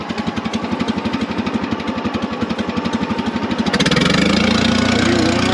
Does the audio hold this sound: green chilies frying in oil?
no